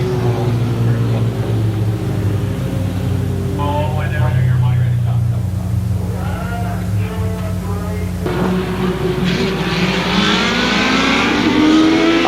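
Race cars on an oval at Columbus Motor Speedway running tightly bunched, engines droning loud and steady with rising revs as the pack passes, under continuous announcer commentary.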